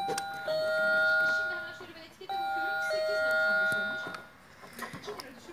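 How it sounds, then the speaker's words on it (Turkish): An apartment doorbell rings with long sustained electronic tones in two bursts, loud and near, with a pause between, ending in faint clicks. "buna bastığınız zil çalacak"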